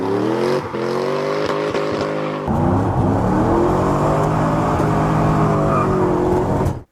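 A Toyota Soarer's 4-litre 1UZ V8 with a tuned exhaust idles with a deep, steady burble, then is revved hard and held at a loud, sustained roar before cutting off abruptly, with no voices.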